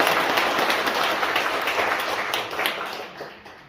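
A church audience at a Mass praying for the restoration of democracy gives a sustained round of warm applause, a dense, loud wash of clapping that holds steady and then gradually tapers off.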